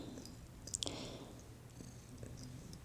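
A house cat purrs softly and steadily close by, a low continuous rumble in a quiet indoor room, with a couple of faint clicks near the start.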